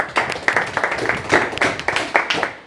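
Clapping from a small audience at a mobile repairing training class, a loose burst of handclaps with uneven rhythm, moderately close, with a voice talking faintly underneath.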